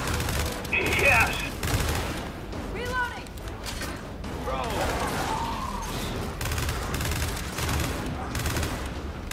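Rapid bursts of video game gunfire ring out continuously at close range, with sustained volleys and some heavier shots, mixed under excited player chatter.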